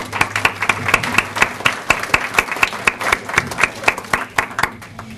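A small group claps at a hospital volunteer recognition ceremony, the hand claps distinct and somewhat sparse, steady and close, with no talking.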